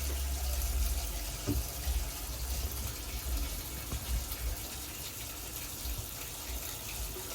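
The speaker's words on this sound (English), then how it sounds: "So I'm going to put the tap on, hot water" Hot water runs steadily from a tap into a sink, a constant close splashing rush that doesn't let up.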